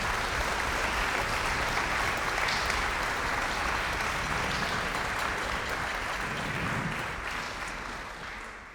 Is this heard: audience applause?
yes